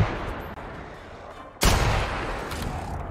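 A burst of blind gunfire in The Outer Worlds, a loud sudden crack of shots after a quieter stretch of ambient game noise, ringing on densely to the end.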